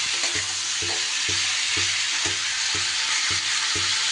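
Green tomatoes fry in a pan with a constant loud sizzle, while a utensil stirs and scrapes in a steady rhythm about twice per second. No one speaks.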